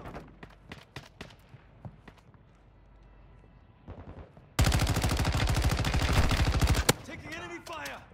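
Gunfire in a military shooter game: a few scattered shots early, then a long, loud sustained burst of automatic fire for a couple of seconds that stops abruptly, with quieter game sounds and faint voices around it.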